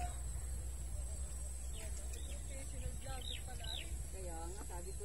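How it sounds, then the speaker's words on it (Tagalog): Birds chirp in quiet countryside, with short, sparse, faint calls scattered over a low rural background hum and a steady high insect-like whine. "Puro huni ng ibon ang mapapakinggan mo dito."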